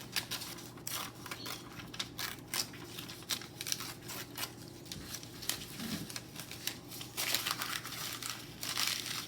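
Book page paper being torn up by hand, a steady run of close crinkling and ripping bursts across the stretch, with no talking.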